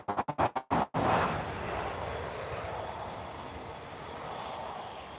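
An Aero Ropa Boeing 737 sits or moves on the ground at Lisbon Airport. Its faint, steady engine whine drones on after a burst of sharp, rapid clicks at the start.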